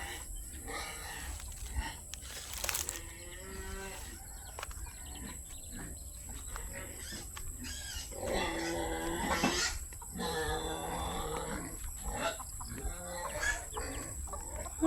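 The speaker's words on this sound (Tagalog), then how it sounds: "Native na manok po yan, native." Native chickens cluck on and off throughout, short choppy calls close by, with a steady background hum and some faint voices, in the evening.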